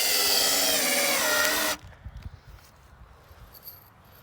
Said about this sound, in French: je vais visser de l'autre côté du coup.